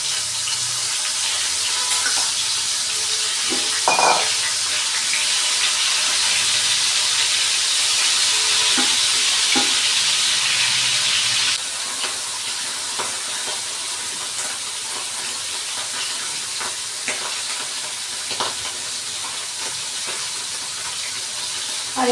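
Tangra fish frying in hot oil gives a steady, bright hiss of sizzling that fills the whole stretch, with scattered pops and crackles, dropping slightly in intensity partway through.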